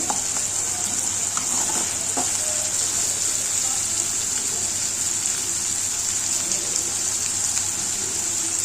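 Tomatoes frying for a mutton gravy, a steady bright sizzle and hiss holding evenly throughout with faint clinks near the start and no talk over it.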